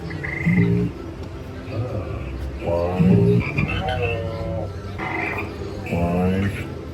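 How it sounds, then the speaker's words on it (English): Frogs croak in repeated bursts, loud and close, with several calls overlapping in a steady chorus, played at a swamp-themed attraction at Universal Orlando. "you can step on lily pads and hear the frogs singing"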